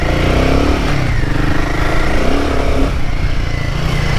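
A Royal Enfield Himalayan 450 motorcycle climbing an off-road hill holds a loud, close single-cylinder drone with a steady throb and slight shifts in pitch as the throttle changes.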